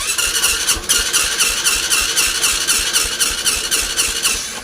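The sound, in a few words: Honda Supra X 125 motorcycle hard cold start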